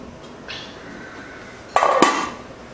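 A metal lid is set back onto a cooking pot of coconut milk rice, giving a short soft scrape and then two sharp clanks near the end, otherwise quiet.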